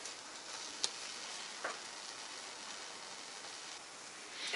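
An egg and cheddar slice sandwich fries in butter in a pan, a steady close sizzle running throughout, broken by two small ticks of utensil contact and no voices.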